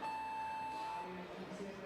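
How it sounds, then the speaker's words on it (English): Competition timer buzzer at the women's bouldering semi-final in Brixen 2022, sounding as a single steady electronic tone for about a second, faint and under commentary speech. "Well, the buzzer goes."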